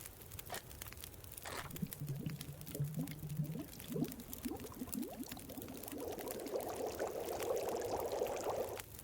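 A can of Pinnacle peaches is cut open and cooked in The Long Dark. Faint clinks and a brief tearing lead into a soft, bubbling sizzle that swells steadily and keeps simmering quietly to the end.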